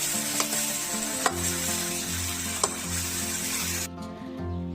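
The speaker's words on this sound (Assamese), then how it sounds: "এতিয়া গোটেইখিনি অলপ ভাজি লৈছোঁ।" Pork with mustard greens, ginger-garlic paste and tomato frying in a pan makes a steady, loud sizzle throughout, with a few brief scraping clicks from stirring, and no talk.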